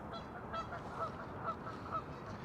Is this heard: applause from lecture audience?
no